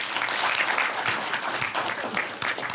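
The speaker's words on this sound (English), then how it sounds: "we can appreciate them with a nice hand clap" Audience applause at a capacity-building validation workshop, with dense, steady hand clapping from a crowd that continues evenly for the whole stretch without a pause.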